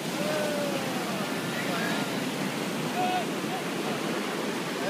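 Sea waves wash against the shore in a steady, loud broadband rush that holds without break, with faint higher tones scattered through the surf.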